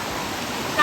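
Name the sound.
waterfall pouring nearby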